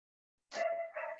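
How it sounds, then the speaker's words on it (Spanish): A single dog gives a short, faint bark after a moment of silence, followed by a second yelp. "Acá también hay perros."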